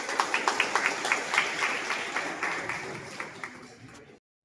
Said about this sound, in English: let's congratulate and have a round of applause to all of them